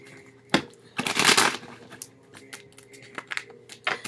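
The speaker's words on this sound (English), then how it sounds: "Let's cut this deck of cards. Shuffle." A deck of tarot cards being cut and shuffled, with close, irregular riffling bursts and papery flicks, loudest in one dense flurry, then scattered softer taps and slides, no talking.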